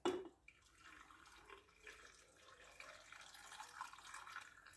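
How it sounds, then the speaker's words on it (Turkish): Water poured into a glass jar of homemade pickles with garlic, a soft continuous trickle and splash after a brief clink at the start, fairly quiet and steady. "suyumuzu ilave ediyoruz"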